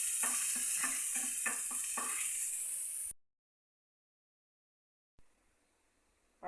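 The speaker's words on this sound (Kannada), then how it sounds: "ಚೆನ್ನಾಗಿ ಫ್ರೈ ಆಗಲಿ." Tomato frying in a pan with several rhythmic stirring scrapes over a loud steady sizzle, which cuts to silence, then a faint hiss returns near the end.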